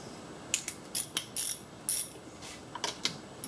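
A ratchet fitted with a 12 mm deep socket works manifold bolts during a Toyota Prius engine swap, giving a series of close, sharp clicking bursts in quick irregular succession with no talking.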